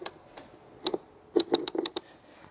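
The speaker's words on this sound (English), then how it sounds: "these are the pawls that actually make the clicky sound" Pawls clicking inside a Harken 48.3 sailing winch opened up for servicing, a quick irregular series of crisp close metallic clicks, some in rapid bursts, with no talking.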